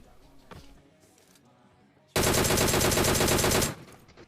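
A long burst of rapid automatic gunfire in PUBG Mobile erupts loud and close after a stretch of quieter background noise, then stops abruptly.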